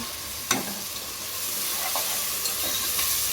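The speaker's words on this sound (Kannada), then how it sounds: "ಪೇಸ್ಟ್ ಸೇರಿಸ್ಕೊಂಡು ಸ್ವಲ್ಪ ಚೆನ್ನಾಗಿ ಎಣ್ಣೆ ಬಿಡೋವರೆಗೂ ಚೆನ್ನಾಗಿ ಫ್ರೈ ಮಾಡ್ಕೋಬೇಕು." Ground paste sizzles and fries in hot oil in a pan for a rice pulao, a steady, close, continuous hiss with a few soft knocks from stirring.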